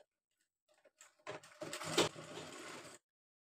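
A sewing machine stitches lace onto a small Laddu Gopal dress, a fast mechanical whirring run of about two seconds that starts after a few faint clicks and stops abruptly, close and fairly quiet.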